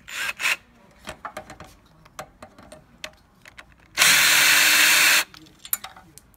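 A brief loud rasping burst of a small power driver backs out a tiny screw on a semi-automatic cup sealer's sensor, preceded by faint scattered clicks and taps, with no voice over it.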